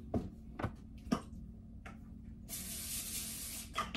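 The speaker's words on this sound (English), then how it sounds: "Let me grab my little pan with some spray." A steady hiss of cooking spray onto a small pan bursts out and holds for over a second, loud and close, after a few light clicks and taps.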